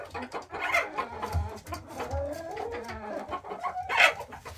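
Hens fighting, squawking and clucking close by in agitated bursts as an old white hen attacks the others, with a sharp higher squawk near the end.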